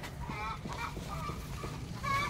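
Farm ducks give a string of loud, nasal honking quacks close by, several bursts in quick succession with short gaps between them. A louder cluster comes near the end, and no one speaks over them.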